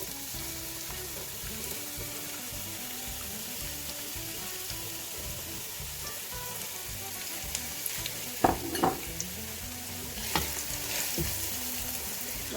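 Chopped onion frying in hot oil in a pan for a potato keema curry, a steady loud sizzle with occasional stirring clatter and brighter crackling bursts toward the end, no voices.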